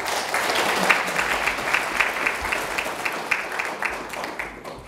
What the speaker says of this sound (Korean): 우리 두 분께도 우리 큰 박수 한번 부탁드리겠습니다.